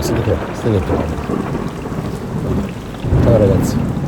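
Rain falling on and around a tent at an unofficial campsite in Antalya, Turkey, with deep rolling thunder rumbling through, steady and fairly loud; someone speaks briefly over it.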